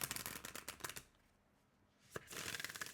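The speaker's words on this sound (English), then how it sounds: "Let me see if I can do ripple shuffle or not." A thick cardstock oracle deck is ripple shuffled, giving a quick, close run of crisp riffling flutters, a brief pause, then another burst of rapid card flicks.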